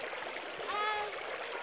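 Water is poured a little at a time to wash gritty clay out of a pan, a soft trickling splash that swells briefly in the middle against quiet background noise.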